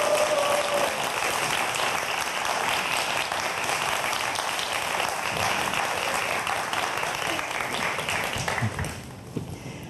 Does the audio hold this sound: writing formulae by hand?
no